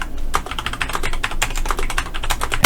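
Rapid, steady keystrokes on a computer keyboard fill the space, dense clicks with occasional heavier presses like the Enter key, close by and without any voices.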